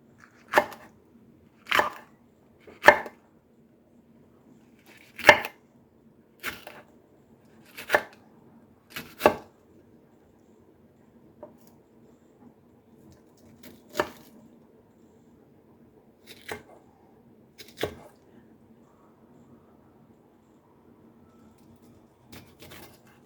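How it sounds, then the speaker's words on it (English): Knife slicing straight banana peppers on a cutting board, a series of sharp chopping taps in irregular bursts, close and clear with quiet pauses between and no talking. "let me go ahead and cut all these up"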